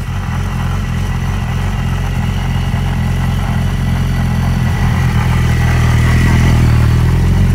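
A motorcycle engine idles and runs steadily nearby, a low rumbling drone with light mechanical clatter that swells slightly toward the end, with no voices.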